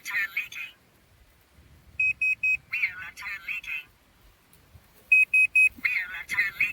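Two rounds of sharp triple electronic beeps sound from a tyre pressure monitoring system's dashboard alarm warning of a leaking rear left tyre, with a person talking in between and after.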